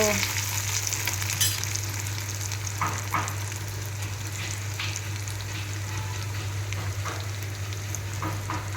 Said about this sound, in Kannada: ಇವಾಗ ಈ ಥರ ಫ್ರೈ ಆಗ್ತಾ ಇದೆ ನೋಡಿ ಸಣ್ಣ ಉರಿ ಸ್ಲೋಲಿ